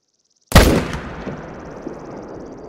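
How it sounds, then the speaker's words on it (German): A single loud rifle shot in the hunting game The Hunter: Call of the Wild, fired while stalking ibex in Cuatro Colinas, with a sharp crack and a long rolling echo fading afterward; no voices. "Ein perfekter Schuss."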